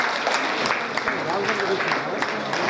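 Audience applause at a bank branch event in Raptadu, steady clapping with some sharper individual claps and faint voices mixed in.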